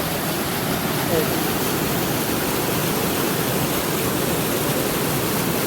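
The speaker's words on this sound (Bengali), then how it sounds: "জলটা আসছে দেখুন অসাধারণ একটা জল" Water pours steadily through a small village dam in Midnapore, a dense, continuous rushing roar with no breaks, close and loud throughout.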